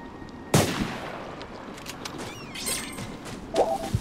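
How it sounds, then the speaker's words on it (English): A single sharp gunshot in the video game Oceanhorn 2, fired at an apple tree, followed by a weaker second report a few seconds later over quiet game ambience. "I guess if I shoot it."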